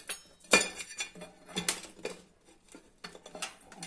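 Small clinks and scrapes of a metal wall hanger being removed from a ceramic plate, a few sharp taps among quieter fiddling, close and fairly soft.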